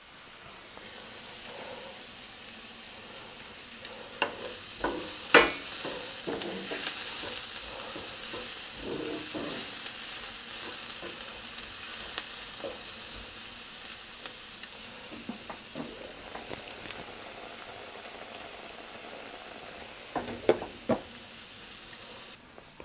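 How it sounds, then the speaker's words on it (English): Garlic and onion sauté in a pan for salsa de molcajete, giving a steady close sizzle and frying hiss throughout, with scattered clinks and scrapes of stirring and no talk. "So I'm sauteing the garlic and the onion."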